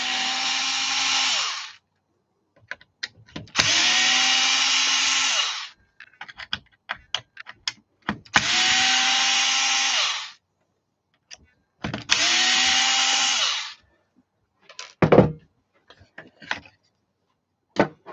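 A power drill drives screws into the back panel during a crash repair, heard as four sustained whirring bursts of about two seconds each, with clicks and rattles of handling between them and no talking.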